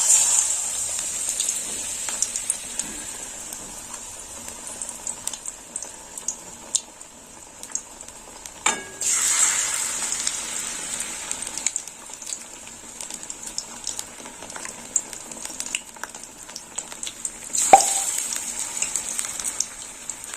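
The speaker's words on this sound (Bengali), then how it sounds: "গোলার মধ্যে ডুবিয়ে নিলাম, নিয়ে এবার আমি তেলে দিয়ে দেবো" Pumpkin flowers dipped in batter fry in hot oil, giving a steady, crackling hiss with two brief louder bursts as pieces go in; no one speaks.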